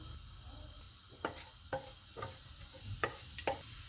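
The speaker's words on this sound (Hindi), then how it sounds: "ऑयल गर्म हो गया, इसमें साबुत मसाला डालेंगे। इसको 20 सेकंड तक फ्राई करेंगे।" Whole spices fry in hot oil for a chicken white pulao, giving faint, scattered crackles and pops. Several distinct ticks stand out over a quiet, low sizzle.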